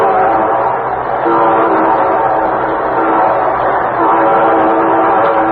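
A loud train rumbles steadily past while a sustained multi-tone horn blares over the rolling noise throughout, on a 1953 radio broadcast.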